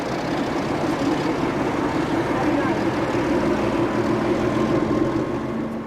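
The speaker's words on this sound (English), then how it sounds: "number 1327, shows off its clag producing qualities whilst heading for the depot on 11th of July 1996." A Portuguese diesel locomotive, number 1327, rumbles past with a steady droning engine at a rail yard near the depot, its heavy low throb holding at constant loudness throughout.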